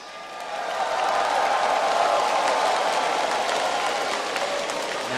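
A large arena crowd at the 2012 League of Legends finals, Azubu Frost against TPA, cheers and applauds in a steady, loud, sustained roar that swells and holds for several seconds without speech.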